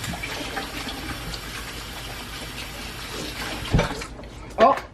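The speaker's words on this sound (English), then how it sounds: "Now I'm gonna wash my hands." Hands washed under a running kitchen tap, a steady broadband wash of water filling the whole stretch with a few brief clunks and splashes near the end.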